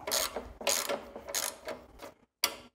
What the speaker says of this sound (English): Just reverse the ratchet.